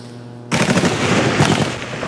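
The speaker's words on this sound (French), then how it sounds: "Coups de feu et tirs d'artillerie incessants depuis hier." Street gunfire in Abidjan during armed unrest, a loud burst of rapid automatic shots that starts abruptly and rattles on continuously, close and harsh, with no voices.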